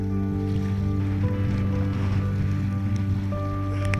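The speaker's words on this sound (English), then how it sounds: "Bit of white water kayaking for you." Sea kayaking through choppy waves off Colintraive toward the Kyles of Bute, with continuous rushing water and wind noise close by, a steady low hum and occasional splashes near the end.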